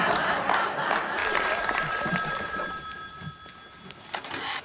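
A telephone bell rings repeatedly in a sitcom scene from The Golden Girls, its bright trilling tone clear and fairly loud over a murmuring studio audience.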